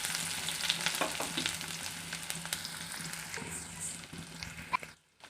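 Onions frying in hot oil with fennel seed, cinnamon, cloves and cardamom for a vegetable kurma, a steady close sizzle with stirring scrapes throughout, cutting off abruptly near the end.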